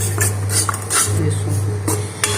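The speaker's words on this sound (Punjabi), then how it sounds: "ਹੁਣ ਆਪਾਂ ਇਸ ਤਰ੍ਹਾਂ ਇਹਨੂੰ ਹਿਲਾ ਦਵਾਂਗੇ" Besan (gram flour) stirred in desi ghee in a pan for besan laddoos: continuous close scraping of a spoon against the metal pan with light rhythmic clinks over a steady low hum, no talk.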